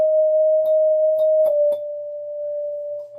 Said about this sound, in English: a whole lot of E bell to E chime to E bell, D bell to D chime